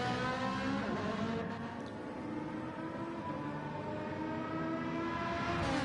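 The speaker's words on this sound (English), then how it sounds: "There's the high rev V8 of the Ferrari." High-revving Ferrari V8 engine in a sim racing game at the Sardegna circuit, a dense, steady harmonic engine drone with sweeping pitch changes through gear shifts, loud and continuous throughout.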